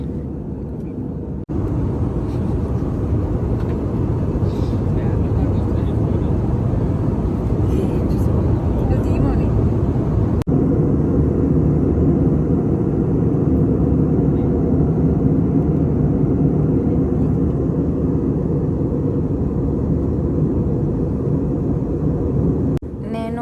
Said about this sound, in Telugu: ఇంకా చిన్నగా కిందకి ల్యాండ్ చేస్తున్నారు